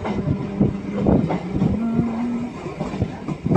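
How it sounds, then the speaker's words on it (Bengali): A passenger train leaving Beldanga, India, gives a continuous low rumble with a steady humming tone and occasional rattling thumps, close and with no talking. "এই হচ্ছে ট্রেন।"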